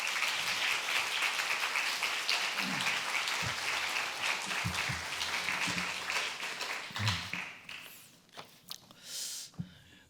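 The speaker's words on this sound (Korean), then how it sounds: "우리 함께 박수로 우리 강사 목사님 모시도록 하겠습니다" A church congregation at an autumn revival service applauds steadily to welcome the guest pastor, a dense roomful of clapping that fades out near the end with a few scattered claps and a little shuffling.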